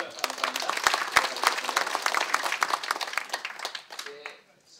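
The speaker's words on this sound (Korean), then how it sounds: "박수 감사합니다" An audience at an academic seminar claps for several seconds, scattered sharp claps thinning out before fading to quiet at the end.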